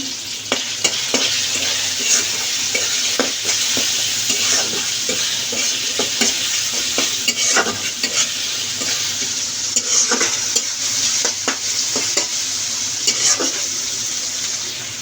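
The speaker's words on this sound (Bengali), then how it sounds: "তো এখানে আমি জিরা তিনটা সাদা এলাচ দিয়ে দিচ্ছি তো এখানে দুইটা তেজপাতা দিয়ে দিলাম" Cumin, white cardamom pods and bay leaves frying in hot oil in a home kitchen, giving a steady close sizzle with occasional crackles and stirring clinks, no voices.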